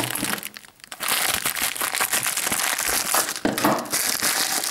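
A mailed package of trading cards and stickers is torn open and unwrapped, giving dense, loud crinkling and crumpling of wrapping that runs almost continuously with brief pauses.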